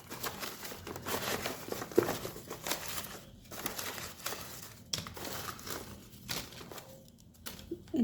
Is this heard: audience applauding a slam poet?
no